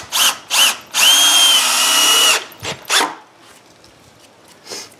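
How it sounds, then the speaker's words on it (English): A power drill whines in short bursts and one longer steady run while driving into a wooden farmhouse bench, loud and close, with a dog barking a few times between the bursts. "it's kind of hard to get in here with the drill"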